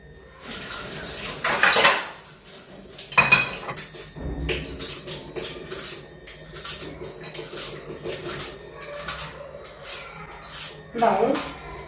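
An apple is cut in a home kitchen: knife taps and clinks against a board and dishes come in irregular bursts, some louder than others, while someone talks throughout.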